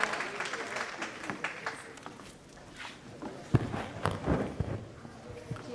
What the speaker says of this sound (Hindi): एकदम ज़ोरदार तालियों के साथ इनका स्वागत किया जाए।